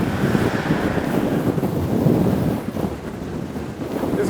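Strong wind gusts of around 50 kilometres per hour buffet a car, a continuous low roaring rumble of wind against the body and microphone that swells and eases slightly, loud and steady throughout with no talk.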